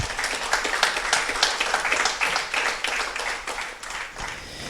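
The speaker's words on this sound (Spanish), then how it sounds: "Démosle un aplauso a Jesucristo, hermano" A church congregation applauding during a Spanish-language sermon, sustained crowd clapping with a busy, fluttering texture that stays fairly loud and even for several seconds and fades slightly toward the end.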